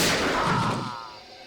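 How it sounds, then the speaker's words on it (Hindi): A single loud gunshot rings out in a Hindi TV crime drama, a sharp blast at the start that booms and then decays into a fading echo over about a second. "चली चली चली गोली चली"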